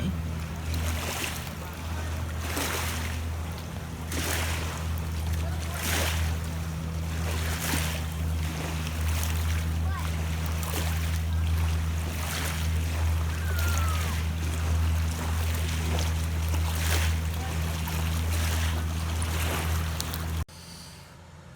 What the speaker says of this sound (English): I'm going to sit here and eat my little lunch and watch the boats go by.